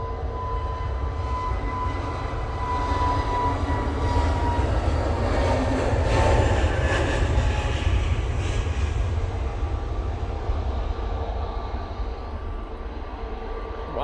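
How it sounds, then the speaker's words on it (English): A Jet2 Airbus A321neo rolls down the runway for takeoff at Manchester Airport on a windy day, a loud sustained engine roar building and holding throughout without any talk. "Jet2 A321 Neo and .com livery now on the roll."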